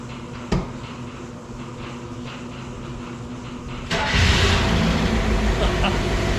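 An engine on a junkyard car turns over after a sharp click and steady mechanical hum, then catches and runs. The rough, louder running sound is close and continues to the end, with no speech.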